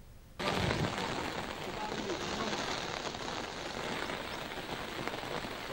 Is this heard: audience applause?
no